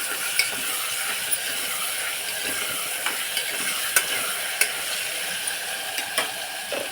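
A spoon stirs rajma and drumstick curry with tomato in a pan, making a soft, continuous sizzle broken by sharp metallic taps and scrapes against the pan at irregular intervals. No one talks.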